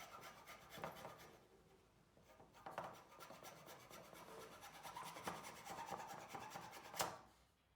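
A wooden door frame for a porch enclosure is sanded by hand, giving rasping rub strokes in an uneven rhythm at close range, with brief louder passes and no talking.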